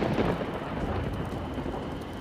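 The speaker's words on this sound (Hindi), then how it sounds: "उतनी देर में बहुत तेज बिजली कड़की" Thunder rumbling through a horror story scene, a loud, low roll with a sharp crack at the start, followed by a steady storm wash and rain-like hiss, no voices.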